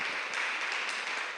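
A church congregation applauds in a steady wash of clapping, fairly faint and distant, continuing evenly for a brief moment with no talk over it.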